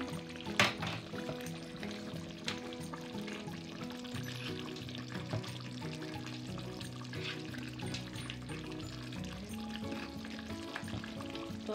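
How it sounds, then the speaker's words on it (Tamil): Curry leaves frying in oil for a Sri Lankan chicken curry, a soft sizzle under a faint background hum, with a brief crackle near the start. "கருவேப்பிள்ளையும் கொஞ்சம் போடுவோம்"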